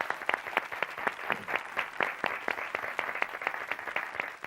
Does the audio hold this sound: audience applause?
yes